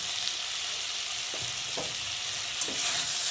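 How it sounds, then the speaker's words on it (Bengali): Ginger and cumin paste, garlic, turmeric and salt are sautéed with vegetables in a pan for a small-fish curry, giving a steady sizzle broken by a few short scraping stirs, no talking. "এখন মশলাটাকে ভালো করে সবজির সাথে কষিয়ে নেব"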